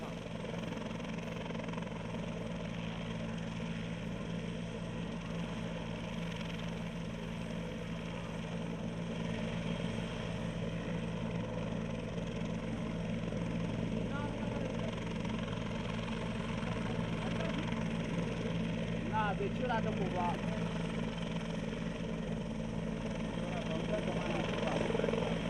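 A helicopter overhead during a heavily escorted convoy drive, heard as a continuous low rotor and engine drone. It stays steady for the whole stretch and grows slightly louder toward the end, with faint background noise.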